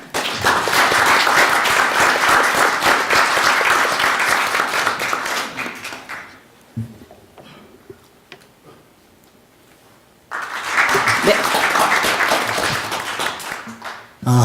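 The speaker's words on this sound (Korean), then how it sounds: "우리 큰 박수로 맞이해 주시기 바랍니다" At a Korean diaspora conference, the audience claps warmly in welcome for a speaker, a long burst that fades into a quieter pause, then resumes with renewed full applause.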